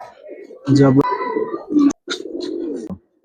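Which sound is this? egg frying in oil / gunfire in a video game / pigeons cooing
pigeons cooing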